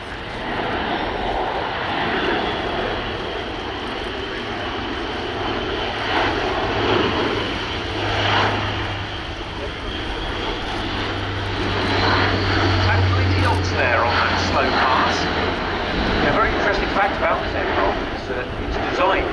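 A large four-engine military transport aircraft, the Atlas, flies past at a rainy air show, a steady broad engine roar filling the scene with a low drone beneath, while a commentator talks over it throughout.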